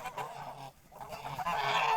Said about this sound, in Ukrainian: То таке, як гуски.